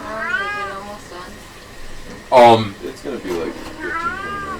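A cat meows repeatedly indoors, several drawn-out, wavering cries that come close and loud, mixed in with people chatting nearby.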